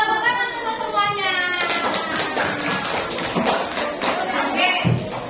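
Children in a classroom clap together in a quick, patter-like burst of many small hands, close and steady for several seconds, with a few young voices mixed in.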